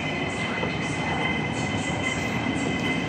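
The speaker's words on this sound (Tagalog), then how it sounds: "monotrail guys, sasakay ka dyan, din papuntang immigration" Hong Kong airport monorail train carrying passengers toward immigration, a steady loud rumble and hum of the car in motion with a faint tonal whine, heard close from inside.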